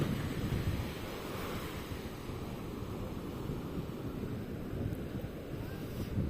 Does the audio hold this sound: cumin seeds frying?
no